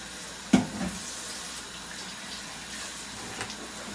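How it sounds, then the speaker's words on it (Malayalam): Hot water runs steadily from a kitchen tap into a pot while rice is being prepared, a constant hissing stream with a brief clatter near the start. "ചൂടുവെള്ളം."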